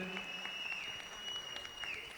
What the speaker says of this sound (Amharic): ጌትሽ አጨብጭቡ። ጭብጨባ ያስፈልጋል።